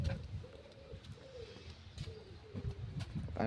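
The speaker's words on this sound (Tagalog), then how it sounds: "Parang nasa bundok yung huni ng ibon." Pigeons coo in a steady, repeating rhythm among trees beside apartment buildings on a street in Hungary. The coos are moderately close over low outdoor background rumble.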